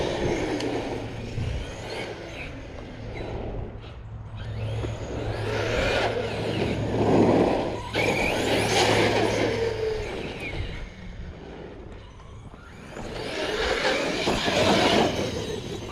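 A Sledge RC monster truck driving on a test run, its electric motor whining and rising and falling with the throttle over steady rolling noise, fairly loud and continuous.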